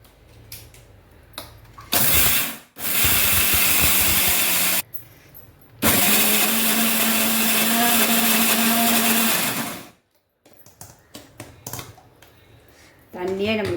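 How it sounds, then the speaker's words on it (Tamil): Soaked batter with salt being ground in a kitchen mixer grinder, loud close whirring in two long bursts with a brief stop between, while someone talks in the quieter moments before and after. "தேவையான உப்பையும் போட்டுருவோம் சுவைக்கு அவ்வளோ அப்படியே சேர்த்து அரைச்சிடுவோம் இப்போ அரைச்சிடுவோம்"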